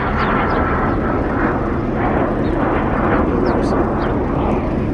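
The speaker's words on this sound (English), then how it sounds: "Got another plane coming in." A plane comes in overhead with a steady, broad engine roar, loud and sustained throughout, while a person talks over it.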